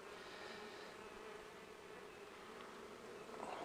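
Honeybees hum steadily at an open hive during a brood box inspection, a dense, even drone of many wings held at a constant level throughout, slightly louder near the end.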